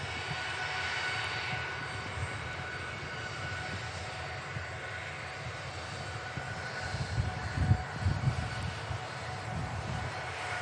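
Ryanair jet engines spool up at Manchester Airport, a steady, fairly distant drone that grows slightly rougher and louder toward the end.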